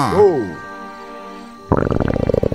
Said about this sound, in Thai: มันเป็นแค่เสียงท้องร้องของแมทเท่าน